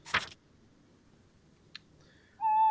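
A battle owl in a modded Minecraft survival game gives a brief sharp hoot, followed by a small click and a rising electronic tone, with near silence between the sounds.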